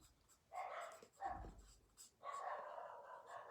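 Several short dog barks come in bursts with brief pauses between them, moderately close, no one talking.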